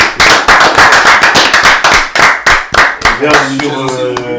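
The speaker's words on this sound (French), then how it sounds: "On peut l'applaudir." A few people on a quiz show clap in quick, loud, rhythmic beats close by, then a voice starts speaking as the clapping fades.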